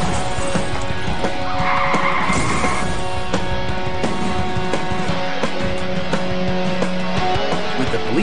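Getaway car racing and weaving through traffic on a Los Angeles freeway, a loud continuous roar of engine and tires with squealing and passing traffic, plus tonal whines over the din.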